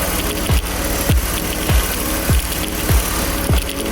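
A BMW E46 330i ZHP with 186,000 miles idles steadily after fresh oil and a new filter, its low engine hum broken by an even, pulsing thump about every half second, close by and alone.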